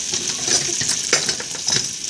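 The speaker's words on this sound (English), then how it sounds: "when you hear that sizzleness going on, that's about the right temperature" Food frying in a hot pan gives off a steady, close hiss with small crackles and faint scraping, as if being stirred, with no talking over it.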